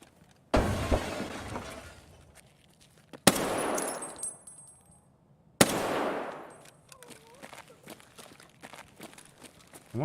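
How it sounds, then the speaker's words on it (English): Glass shatters three times in a row in the Escape From Tarkov shooter. Each loud crash is followed by tinkling debris, and faint shots and clatter carry on between the breaks. "Someone broke some glass."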